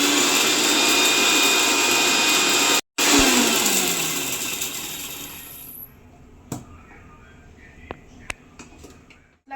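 A kitchen mixer grinder dry-grinds cumin, coriander and black pepper at a loud, steady whine for several seconds, then cuts out and spins down, leaving a few faint clicks and knocks.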